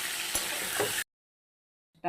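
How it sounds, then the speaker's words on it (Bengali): About a second of close sizzling from fish coated in salt and turmeric frying in oil, then abrupt silence before a short new sound starts at the end. "নুন হলুদ দিয়ে মেখে মাছটা ভেজে নিচ্ছি।"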